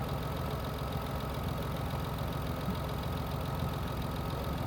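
A Mitsubishi Endeavor engine idles steadily with a freshly installed power steering pump, a continuous even rumble with no voices.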